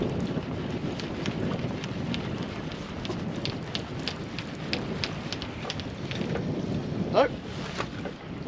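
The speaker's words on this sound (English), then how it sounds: "That wind's starting to pick up now." Steady wind buffets a small fishing boat at sea, with a constant rushing roar, faint splashes and clatter of gear throughout, and no clear talking.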